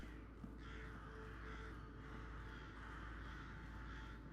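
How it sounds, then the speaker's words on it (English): Crows keep cawing over a continuous low ambient hum in the psychological horror game Rise Of Insanity, the calls blending into a dense, even background with no talking. "You can hear like crows."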